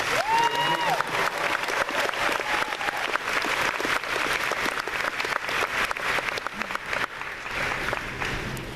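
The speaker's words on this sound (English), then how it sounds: "Please, a round of applause for Dark Horse." A Comic-Con 2015 panel crowd breaks into long, sustained applause, a thick, even spatter of many hands with a few cheers, holding strong for about nine seconds before thinning slightly, with a brief voice at the start.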